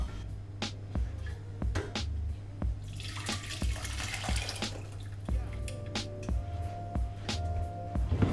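Beef cheek braising liquid is poured, making a sloshing, splashing stream in the middle with scattered clinks and drips around it, close and moderately loud, with no talk.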